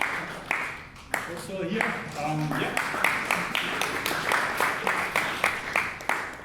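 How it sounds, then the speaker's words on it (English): An audience claps beneath a voice, the applause starting thin and building into a steady patter of distinct claps that carries on under the talk. "Always good to start with some applause"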